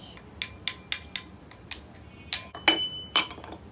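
A metal spoon clinks against a glass while stirring a mixture for a floating-egg science project, with a quick run of bright, distinct taps followed by a few louder, ringing strikes, close and with no talk.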